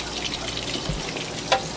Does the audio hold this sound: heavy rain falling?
no